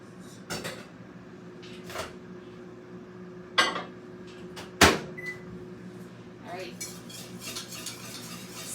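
Cubed butter melting in a kitchen microwave, heard as a steady low hum with scattered clinks, knocks and handling clatter of dishes and a door at moderate distance.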